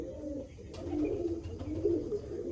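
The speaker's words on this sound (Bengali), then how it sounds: "পায়রাটা দেখুন" Close, soft, rolling coos from pigeons kept for sale in Baruipur near Kalyanpur station, a steady low murmur with no voices.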